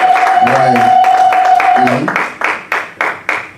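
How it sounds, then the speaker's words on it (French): A church congregation claps in a steady rhythm beneath a voice, and then a few sharp, evenly spaced claps ring out on their own. "Applaudissez pour le Seigneur."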